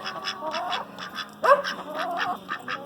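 A male Pekin duck in a chicken run quacks repeatedly in a fast, nasal series close by, with one louder, harsher call midway before the chatter continues.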